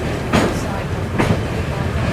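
A train rolls into Doncaster station toward platform 8. Two short clusters of wheel clatter ride over a steady rumble of rail noise, heard from on board, with a voice faintly present.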